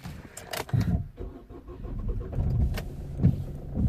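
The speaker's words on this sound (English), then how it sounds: "let's gonna start the engine, because you need the engine running for this" A 2012 Vauxhall/Opel Astra J is started: a short rattle of keys and the starter cranking, then the engine catches and settles into a steady idle, heard close up with no talking.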